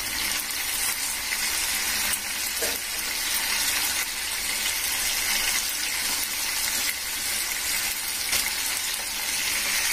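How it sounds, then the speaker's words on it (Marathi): Green chicken kebabs (hariyali kabab) fry in a pan with a continuous, even sizzle and hiss, fairly close and steady from start to finish. "आता आपण आपले कबाब परतून घेऊया."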